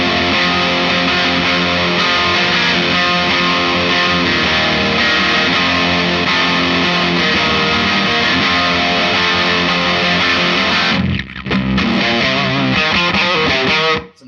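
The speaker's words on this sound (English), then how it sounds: "Gnarly kind of fuzz tones out of that, and it's got this damn dark kind of feature to it." A JHS Legends of Fuzz pedal gives a heavily distorted, fuzzy electric guitar tone playing sustained dark chords for a long stretch, then cuts off abruptly before a brief final strum.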